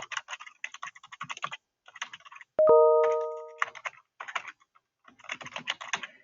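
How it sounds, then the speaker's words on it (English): A web address being typed on a computer keyboard, with rapid close bursts of key clicks separated by short pauses and a single bright ding ringing out midway before typing resumes. "I'm going to write our Canvas page address in here"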